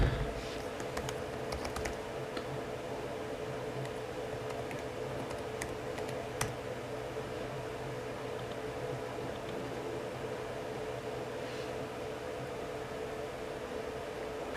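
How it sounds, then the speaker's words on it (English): Scattered, faint keyboard clicks tap irregularly over a steady electrical hum, busier at the start and then sparse, typed on a 2015 Retina MacBook keyboard. "while typing in the name of the password for the network"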